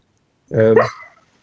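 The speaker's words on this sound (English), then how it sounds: "I've got a little dog over here who's having a night." A little dog indoors lets out one sharp, close bark that trails off into a short yip. It sounds during an evening tavern-style talk show.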